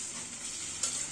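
Pumpkin frying in a pan crackles with a soft, steady close sizzle, and a faint scrape of stirring comes near the end of the short stretch.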